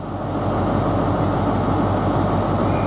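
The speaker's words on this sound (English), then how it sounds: "Now you see there, we're dispatching a train." An LNER Highland Chieftain train bound for Inverness is being dispatched at London King's Cross station, with a loud, steady, close engine rumble that holds evenly and has no voices over it.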